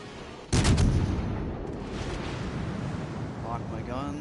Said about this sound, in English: there goes Nuremberg firing on me